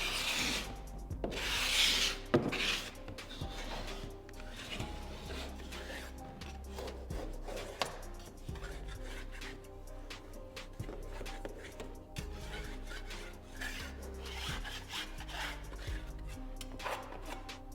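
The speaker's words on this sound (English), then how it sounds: "That's how I would scrape a window like this." A drywall scraper rubs and rasps continuously across the wall around a window, with steady close-up scraping strokes and occasional sharper knocks throughout.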